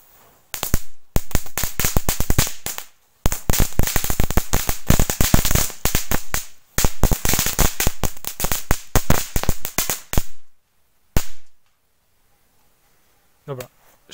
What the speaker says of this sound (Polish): tasiemki strzelają dłużej i na pewno mają bardziej obfity crackling